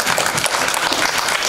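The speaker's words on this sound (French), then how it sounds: "Vous pouvez l'applaudir." Brief, dense applause from a festival audience at a magnetism and dowsing demonstration, steady and close for about a second and a half.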